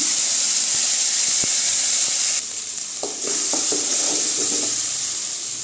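Ground masala with curry leaves fries in a hot pan, giving a loud continuous sizzle that drops briefly as the pan is stirred, with scraping and clinking of the spoon against the metal over the steady hiss.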